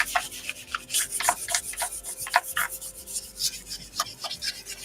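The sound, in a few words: sanding painted wood with fine sandpaper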